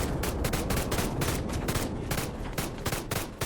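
A light machine gun fired in Plastic Battlegrounds VR: rapid, evenly spaced automatic shots ring out loud and close in sustained bursts, with a short pause before the firing resumes.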